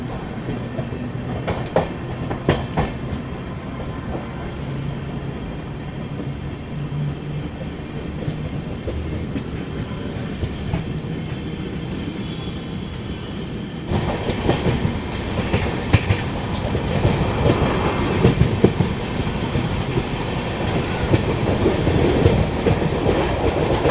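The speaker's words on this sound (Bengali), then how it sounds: "ট্রেন আমাদের এসে পৌঁছালো আলিগড়।" The Howrah Kalka Netaji Express, running late, moves at Aligarh station with a steady rail rumble and wheel clatter that grows louder and busier partway through. No voices are heard.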